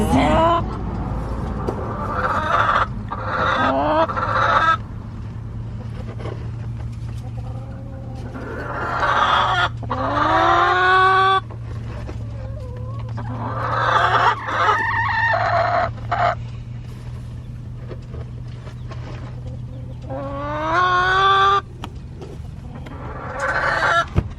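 Backyard flock of hens clucking and squawking in repeated close bursts throughout, over a steady low background hum.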